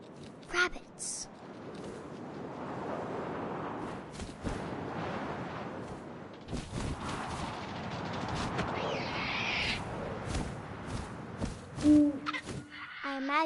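Owl hooting in the video game What Remains of Edith Finch, a few hoots among windy game ambience with scattered sharp sounds, while a narrator speaks over much of it.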